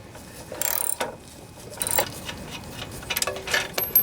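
A ratchet working a bolt loose on the Honda 179cc engine of a Homelite pressure washer: short bursts of rapid metallic clicking, with small clanks of tool against metal, close and fairly quiet.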